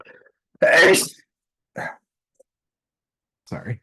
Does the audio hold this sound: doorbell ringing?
no